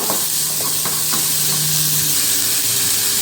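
Onions sauté with salt in a hot pan, giving a loud, steady sizzling hiss with a few light stirring knocks early on.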